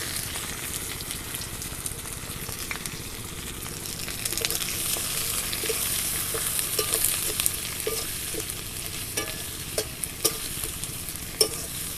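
Chopped onions fry with whole garam masala and halved bay leaves, a steady broad sizzle that holds throughout, with occasional spoon scrapes and clicks near the end.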